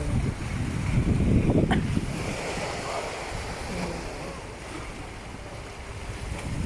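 Waves rolling and washing ashore beneath a rush of wind buffeting the microphone, a louder surge early on, then a steady roar.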